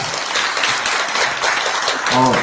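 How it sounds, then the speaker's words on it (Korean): Applause from an audience at a Gyeonggi education administration forum follows a research presentation, a steady wash of clapping for a couple of seconds before a voice cuts in at the end. "다시 한번 뜨거운 박수 부탁드리겠습니다"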